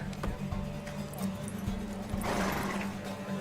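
Hooves pound in quick rhythm over a low rumble, a galloping horse race in The Witcher 3 video game heard up close with a steady background hum.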